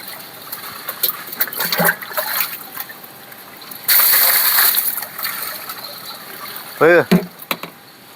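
Water thrown out and splashing outdoors, with a trickling and splattering wash that swells into one loud gush midway, while voices talk now and then in the background.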